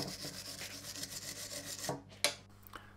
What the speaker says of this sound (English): A quick clean off with the wire brush to get rid of the heat marks.